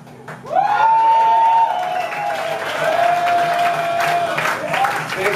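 A crowd claps and cheers at a punk concert at The Acheron. Sustained applause and whooping fill the room under a ringing guitar feedback tone.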